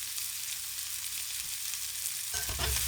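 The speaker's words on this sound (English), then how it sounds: "we can hear that sizzling as the oils are released from our sausage" Sausage sizzles in a pot during gumbo preparation, a close, steady, crackling fry throughout, with a brief stir or shift of the pieces near the end.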